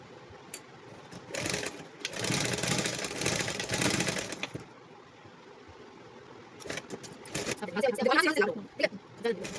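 Sewing machine stitching a pant, running in bursts with a long steady stretch of rapid stitching, then shorter runs, with a person talking in between.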